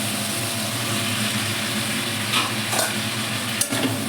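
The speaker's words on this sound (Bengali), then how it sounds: "কুমড়োগুলি দিয়ে ভালো করে নাড়িয়ে আবার আমি ঢাকনা চাপা দিয়ে দিই" Pumpkin pieces stir and fry in a pan for a bitter gourd chorchori, giving a steady close sizzle with a few brief scraping stirs near the end.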